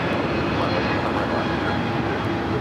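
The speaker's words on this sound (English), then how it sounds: "That was JetBlue heading to Boston in an E321neo flight 288." A JetBlue A321neo jet airliner departing LAX bound for Boston gives a loud, steady, broadband engine roar that holds close and constant throughout, with no talk over it.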